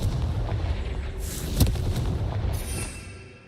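A Confringo spell explodes in the Hogwarts Legacy video game, a deep rumbling blast with a sharp crack at its peak that fades away over a few seconds.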